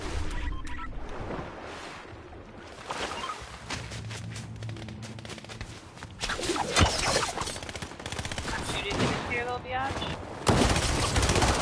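Gunshots in a video game, scattered bursts of firing at moderate loudness, some near and some farther off, mixed with a person talking and other game sounds.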